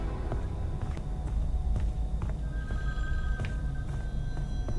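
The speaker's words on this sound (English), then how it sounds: "And now the phone's ringing again." A telephone rings electronically in the video game Friday the 13th: The Virtual Cabin amid a busy, noisy background, its tone sounding briefly in the middle with faint clicks around it.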